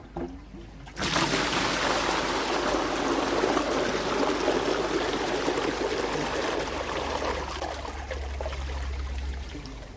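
Koi pond bottom drain valve opening, then a sudden loud rush of water gushing steadily and close for several seconds, slowly easing slightly toward the end with a low rumble underneath.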